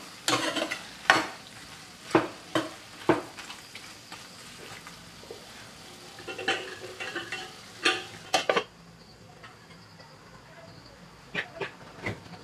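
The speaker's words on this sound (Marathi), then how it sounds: "व्यवस्थित असं मिक्स करूयात व झाकण झाकून घेऊयात." Prawn chilli is stirred and cooked in a pan, with irregular clattering scrapes and knocks of a spoon against the pan over a faint sizzle, then a quieter stretch with a few final taps.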